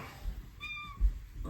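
A house cat gives a single short meow at mid-distance over faint room noise, heard in a brief pause between a person's speech.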